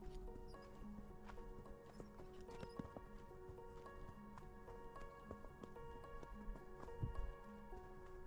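Horse hooves clip-clop faintly at a steady walking rhythm on a road, under a continuous low background hum.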